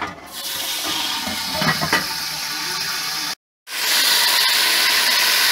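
Water pours noisily into a pot of roasted rice with a rushing, hissing splash, briefly cutting out before resuming at full force.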